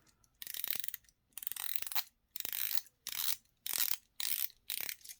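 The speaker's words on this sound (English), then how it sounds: "And that is a very nice sounding bezel." Steel bezel of a Heimdallr V2 Monster dive watch being rotated, giving six close, crisp runs of rapid ratcheting clicks separated by short pauses.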